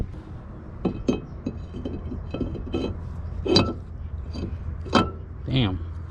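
Metallic clinks and knocks while a brake rotor goes onto a K-swapped Honda CRX, several sharp separate hits spread across the clip, close by, with scattered voice sounds in between.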